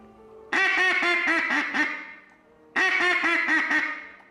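A hand-blown duck call imitates a gray duck in two loud, close bursts, each a rapid chain of about six descending nasal quacks separated by a short gap.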